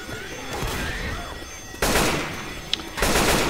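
An AK-47 fitted with a laser sight fires in Left 4 Dead 2, with short loud bursts of automatic gunfire that break out twice over a low rumble of background game noise.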